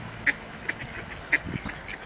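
Ducks and other water birds quack at a frozen winter harbour in Siófok, with a few short, nasal calls close by over quiet outdoor background.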